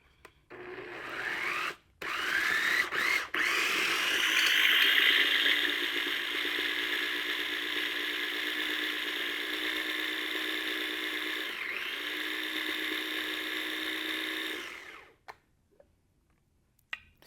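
A food processor blends a garlic clove in a kitchen, a loud steady motor whir that starts after a few brief clicks, runs for about twelve seconds, then cuts off.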